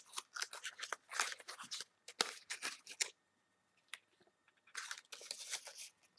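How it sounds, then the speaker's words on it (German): A tin of Former's Private Flake pipe tobacco is opened, and the paper pouch and cover sheet inside crinkle in close bursts separated by short quiet pauses. "Wenn wir die Dose öffnen, sehen wir einmal wieder, dass der Tabak halt in diesen typischen Papierbeuteln daherkommt"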